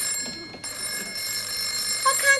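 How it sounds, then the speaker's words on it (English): A telephone bell rings in a suburban family home, a steady, moderately loud ring that carries on through room noise and faint background voices. "Answer the phone, woman, will you?"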